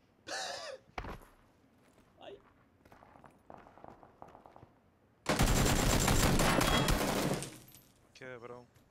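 Gunfire in the battle royale game PUBG: a few scattered single shots, then a long, loud burst of sustained automatic fire, with a gasp and footsteps around it.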